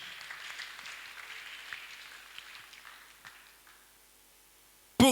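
A church congregation applauds during a sermon, a lively burst of clapping that thins and fades away over several seconds before a sudden loud sound at the end.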